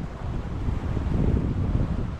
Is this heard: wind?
yes